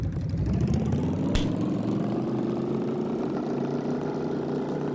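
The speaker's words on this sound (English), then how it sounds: "It's like a go-kart engine, so it's" Small go-kart-like car engine in a Unity penguin driving game idles with a steady, buzzy mid-pitched drone, close and continuous, with one brief sharp click early on and no talk.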